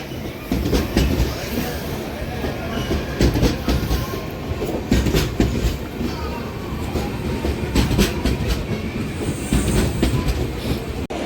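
The Tungabhadra Express running on rails, heard from on board as a loud continuous rumble with repeated clickety-clack wheel beats over the joints and occasional sharper metallic knocks.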